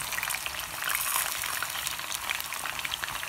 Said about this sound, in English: Man, this is some hot oil.